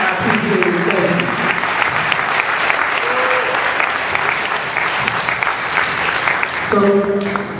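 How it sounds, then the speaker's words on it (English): A crowd at an Atlanta hip hop panel applauds loudly and continuously for a DJ, a thick wash of clapping with some crowd noise and voices talking over it near the end. "So let's keep those applause going"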